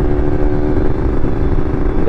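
A Kawasaki Ninja RR motorcycle engine runs close and loud with a sustained rough drone on a dyno, holding steady revs throughout.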